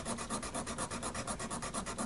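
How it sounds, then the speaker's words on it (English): A hand file rasps steadily across the wooden bridge of a Hofner archtop acoustic guitar, a file meant for metal rather than wood, giving close, even back-and-forth strokes at a quick regular rhythm with no talk. "It's a bit slow with this sort of file because it's not really made for filing wood"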